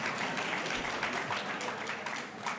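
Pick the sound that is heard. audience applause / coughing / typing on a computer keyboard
audience applause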